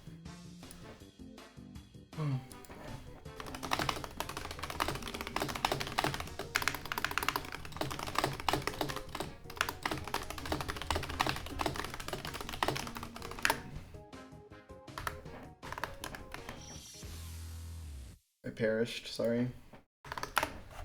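Rapid clattering on a computer keyboard while chatting in Discord, dense keystrokes running through most of the stretch with a few pauses, a voice speaking briefly over it.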